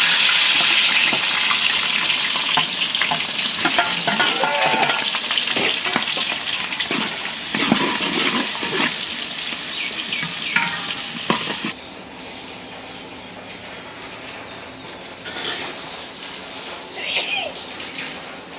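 Onion and green chili frying in a pan, a loud continuous sizzle broken by scraping stirs, then settling to a quieter sizzle.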